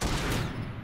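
Rapid burst of gunfire from a PlanetSide 2 video game, loud and dense with overlapping shots, tailing off into a reverberant boom within a second, no talk.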